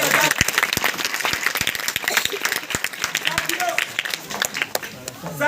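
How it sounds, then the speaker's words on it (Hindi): Applause from an audience at a Hindi-language speech event for an education mission, welcoming village youth; many hands clapping steadily throughout, dense and fairly loud, with scattered sharper claps. "एक बार जोरदार तालियों से इनका स्वागत किया जाए"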